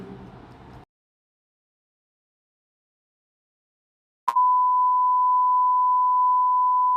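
A weird ringing noise in a glitched video game: after a short burst of sound and a few seconds of silence, a sudden click leads into a steady, loud, pure electronic tone that holds unbroken to the end.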